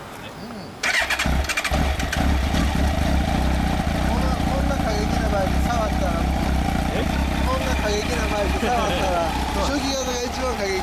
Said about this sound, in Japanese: あのエンジン音聞かせて